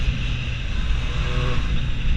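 A Triumph Street Triple 660 motorcycle with a triple-cylinder engine runs with a steady buzzing drone, loud and continuous throughout with no clear rise or break.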